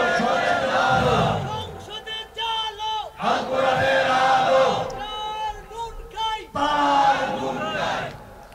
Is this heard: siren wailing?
no